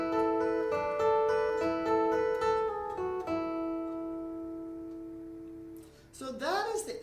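Acoustic guitar plays the intro to a song, with bright plucked notes ringing and overlapping before fading out, then a short burst of other sound at the very end.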